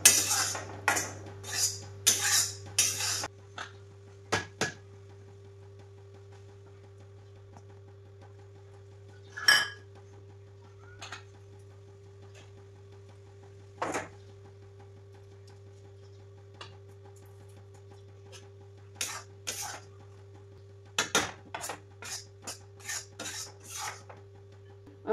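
Dry gram flour being roasted in a pan, stirred with a metal spoon that gives sporadic scraping clinks and rasps, bursts between quiet pauses, close by.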